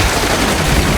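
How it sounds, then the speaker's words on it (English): A train called Albert backs up and bumps into a breakdown crane with a bang and a splutter, heard as a brief, loud burst of crashing noise that fills the whole moment. "with a bang and a splutter, he bumped into the breakdown crane"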